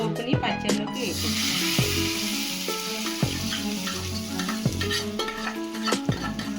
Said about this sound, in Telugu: ఇప్పుడు పోపుని పచ్చళ్ళలోకి వేసి